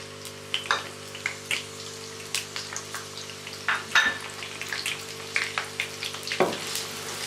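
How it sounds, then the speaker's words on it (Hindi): Sliced onions hit hot oil in a pan for a chicken and cauliflower curry, a close, lively sizzle full of irregular spits and crackles with a few louder pops and a utensil clink. "ऑयल हमारा गर्म हो चुका, अब हम इसमें प्याज डाल देंगे।"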